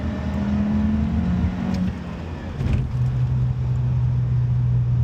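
A BMW E36 fitted with a stock B48 turbo engine drives along, its steady low engine drone and road noise filling the space, with a slight shift in pitch midway as it changes speed.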